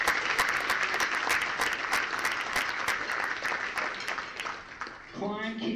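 A banquet crowd at the 2020 Iron Dog snowmobile race event applauds for KTUU with dense, loud clapping that slowly fades. A voice speaks over the tail end.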